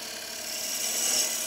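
A gouge cuts a wooden bowl spinning on a lathe, a steady close hissing scrape that swells slightly louder toward the end.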